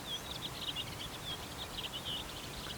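Birds sing outdoors in the quiet Estonian countryside, a series of faint, high chirps and trills repeating over a soft background hush, with no voices.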